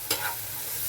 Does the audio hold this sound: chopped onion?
yes